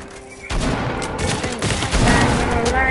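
Rapid bursts of gunfire from a shooter video game, loud and continuous, with overlapping shots building in intensity over a few seconds.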